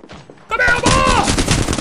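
Gunfire in the game Apex Legends, a loud close burst of rapid shots that kicks in after a short quieter moment and continues densely to the end.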